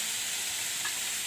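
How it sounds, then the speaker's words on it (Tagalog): Food being stirred in a hot frying pan, a dense continuous sizzle and hiss heard close up, steady and fairly loud for a brief moment, with no voices. "Haluin po natin guys."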